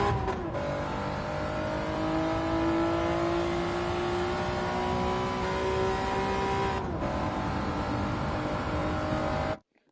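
A Honda NSX engine in the racing game Gran Turismo 7 at Interlagos drones loudly and continuously, climbing through the revs with a brief dip at a gear change, then cutting off abruptly at the end.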